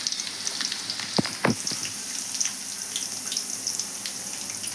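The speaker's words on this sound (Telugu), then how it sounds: "నేను ఎండుమిర్చి అయితే వేస్తున్నాను, కొద్దిగా పోపు దినుసులు వేస్తున్నాను" Onions, dried red chillies and tempering spices fry in hot oil with a steady, quiet sizzle, broken by a few sharp crackles and pops near the start.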